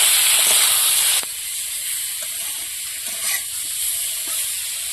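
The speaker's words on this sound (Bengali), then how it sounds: "চিংড়ি মাছটা ভেজে নেবো।" Prawns seasoned with turmeric and salt frying in oil, a loud bright hiss that drops after a second to a quieter steady sizzle with faint clinks.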